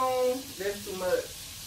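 Butter sizzles softly in a pan on lowered heat, a faint steady fry running beneath a person talking.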